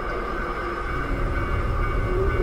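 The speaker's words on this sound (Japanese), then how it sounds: "どうして電車の音がすごく近くに聞こえる。" A train rumbling in a horror video game, a continuous low rolling rattle with a steady hum, sounding close and growing slightly louder, with no talking over it.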